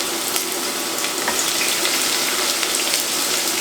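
Chopped onions go into hot oil in a pan for a curry goat dish and crackle into a loud, steady, close sizzle that holds evenly throughout.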